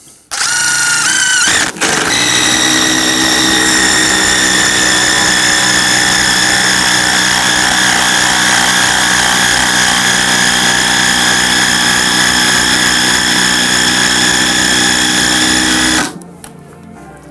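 A cordless impact driver runs on a full battery, a loud, close, steady buzzing whine held for about fourteen seconds after a brief start and a short pause, then stopping abruptly.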